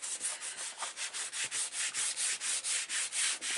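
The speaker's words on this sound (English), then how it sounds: "Give that a good burnishing" Paper for a handmade mini album being burnished with firm, rhythmic back-and-forth rubbing strokes, about four per second, close and steady and with no voices.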